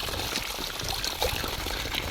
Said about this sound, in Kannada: ಅಂಡರ್ಗ್ರೌಂಡ್ ವಾಟ್ರ್ ಹೆಂಗೆ ಓವರ್ಫ್ಲೋ ಆಗ್ತದೆ